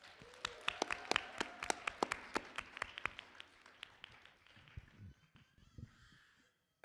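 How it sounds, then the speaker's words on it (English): A crowd at a convention game show event claps in sharp, scattered bursts that thin out and fade over several seconds, with faint voices and shuffling in the room. "Guys, one more big round of applause for our players."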